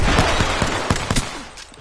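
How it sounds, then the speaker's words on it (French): Enemy gunfire in the battle royale game Apex Legends, a loud run of rapid shots and impacts under a heavy wash of game noise, fading toward the end. "L'ennemi me tire dessus."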